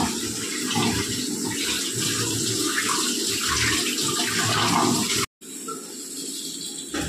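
Water streams into chapati flour to knead dough, a loud, steady rushing pour for about five seconds that cuts off abruptly, followed by a quieter stretch.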